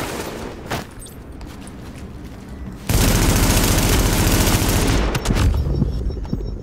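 Heavy automatic gunfire in The Division's Dark Zone erupts as a loud, dense burst of rapid shots and booms after a few scattered earlier pops, then tapers with a couple of trailing shots.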